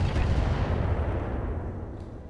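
Heavy weapons firing in the BattleTech mod Roguetech, a loud booming rumble of shots and blasts that slowly decays, dense and low, with no voices.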